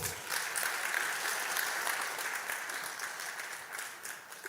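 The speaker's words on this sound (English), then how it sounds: "Another round of applause." A crowd at an agricultural finance learning event gives sustained applause, a dense wash of clapping that slowly eases off toward the end.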